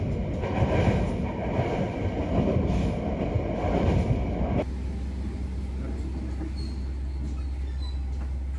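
A sightseeing train rolls along coastal rails, its loud rumble and rattle filling the first half before it abruptly drops to a quieter, steady low hum.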